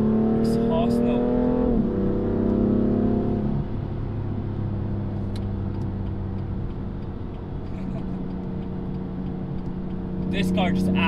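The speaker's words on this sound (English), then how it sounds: "Oh, that exhaust note." A BMW M4 engine roars with a throaty exhaust note, holding steady and rising in revs, loud and close throughout.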